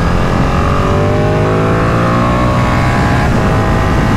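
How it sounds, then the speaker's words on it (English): A Ducati 959 Panigale Corse motorcycle downshifts with rev-matching blips, its loud, close exhaust note sweeping up and down in pitch through gear changes, with no voices. "I usually like to downshift and rev match the bike, like as an example here"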